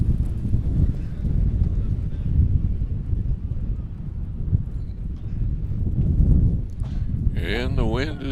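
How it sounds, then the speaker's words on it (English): Gusty wind buffeting the microphone at an outdoor college baseball field, a steady low roar through the whole stretch that swells and eases, with speech blending into it. "the wind is really starting to kick up now"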